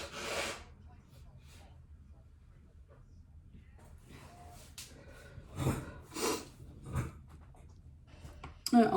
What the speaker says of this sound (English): Need to blow my nose for a second.